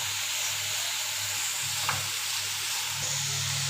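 Onions sauté in a pan with salt at a student cooking contest, a continuous loud hiss of frying with a few soft stirring scrapes, no voices.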